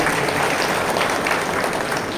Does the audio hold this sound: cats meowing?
no